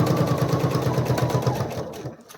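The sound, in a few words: sewing machine sewing quilt pieces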